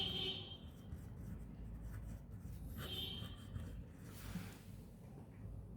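Pen scratching across paper while writing out a geometry answer for a school maths exercise, soft intermittent strokes close to the microphone over a low background hum.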